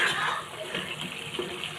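Water poured into a cooking pot of bottle gourd curry, a brief close splashing gush lasting under two seconds.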